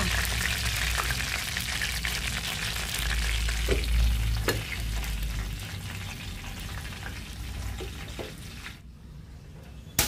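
Pork for lechon kawali fries in a wok with a continuous loud sizzle and crackle, broken by a few sharp pops and scrapes of stirring before the frying noise drops away abruptly near the end.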